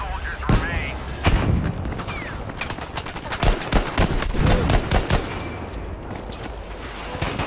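Gunfire in the Battlefield V game on Iwo Jima, rapid bursts of shots and sharp cracks in uneven clusters, fairly close and loud, with a voice speaking over the shooting.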